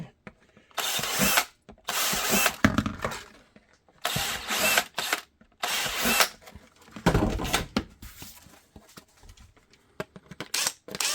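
A power drill bores screw holes in a handgun holster for an S&W Bodyguard 2.0, running in several loud bursts of a few seconds each with short pauses between.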